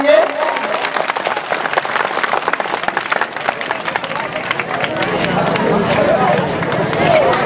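Applause from an audience at a Gond community gathering marking the martyrdom day of Shaheed Veer Narayan Singh welcomes guests. Dense, sustained clapping and crowd noise fill the whole stretch, loud and close.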